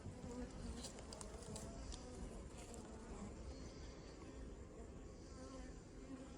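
Honeybees buzzing at an open hive frame, a dense steady drone of many bees close by with individual buzzes passing over it, faint overall and without speech.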